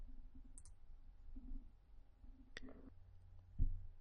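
A single sharp computer mouse click on a Save button in business processing software, heard once, faint and close amid quiet room tone, with a few other soft ticks around it and no talking.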